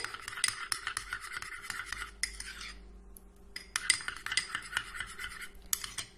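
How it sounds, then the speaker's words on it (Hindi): Olive oil and other ingredients being mixed in a small container, heard as rapid close scraping and clinking of a spoon against the vessel in quick bursts, with a brief pause midway. "इन सारी चीजों को अच्छी तरह से मिक्स कर लेंगे"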